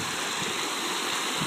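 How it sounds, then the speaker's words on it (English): Water flows over a small waterfall in a restored swale, a steady broad rushing wash at moderate level without voices. "Over the waterfall and down the stream we go."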